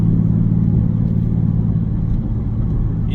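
Nissan 370Z with a GReddy Evo GT exhaust cruising on the highway, a steady low droning engine and exhaust rumble with road noise from inside the cabin, no speech.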